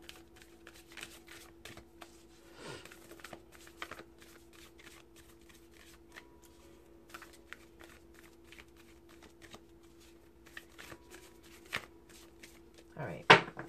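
Sacred Traveler oracle cards being shuffled and pulled for a tarot reading, soft rapid riffling and flicking of the deck that keeps going close by under a steady low hum, with a few brief louder card slaps.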